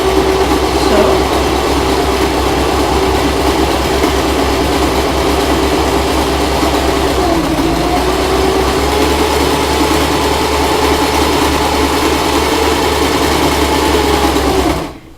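A Janome sewing machine runs continuously at a steady speed, a close, loud, even mechanical whir and rattle that holds for the whole stretch before stopping abruptly at the end.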